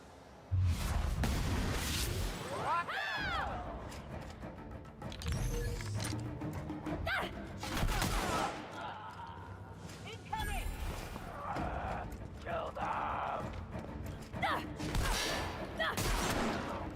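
Shotgun firing in the video game The Outer Worlds, several sharp heavy blasts scattered through a busy combat mix with whooshes and mechanical clatter, with voices talking over the action.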